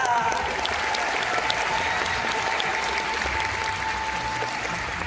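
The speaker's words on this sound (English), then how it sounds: "And an even bigger Georgia Aquarium round of applause for Sasha" Steady, enthusiastic audience applause at a dolphin show at Georgia Aquarium fills the space, many hands clapping at once with a faint tone ringing underneath throughout.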